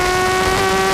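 Race car in the 2005 Paeroa Battle of the Streets street race, its engine screaming loudly at very high revs close by, a steady piercing tone with no voices.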